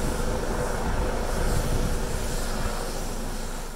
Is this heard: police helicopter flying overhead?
yes